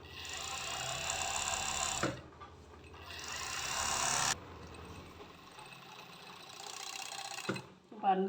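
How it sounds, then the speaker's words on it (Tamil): An overlock sewing machine runs while stitching the lining of a maxi skirt, in three steady whirring bursts of a few seconds each with quiet gaps between them, close and moderately loud. "இப்போ வந்து நம்ம ஓவர்லாக் போட்டுக்கலாம்."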